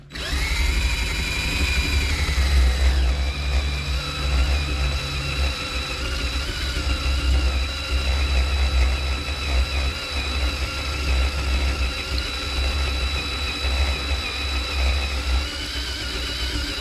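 An eraser wheel spins against the paint of a stepside pickup truck to strip leftover emblem glue, giving a loud, continuous whirring drone that stays steady throughout with no voices.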